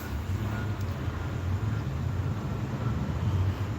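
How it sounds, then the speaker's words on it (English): Road traffic rumbles outdoors as a steady low wash of engine and tyre noise with some wind, moderately loud and unbroken, no talking. "Noisy out here, y'all. Traffic."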